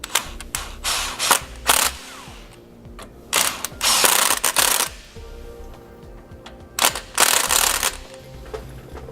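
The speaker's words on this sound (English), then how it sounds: "we're going to come back with that same 13mm socket and we're going to snug them all up." A ratchet with a 13mm socket snugs sway bar hardware on a 2015 Winnebago Minnie Winnie motorhome, giving repeated loud, close bursts of rapid pawl clicking separated by short pauses.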